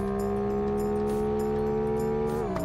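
A viewer-made car in the driving simulator BeamNG drones at a steady, loud, harmonic engine note, then its pitch dips briefly at the end.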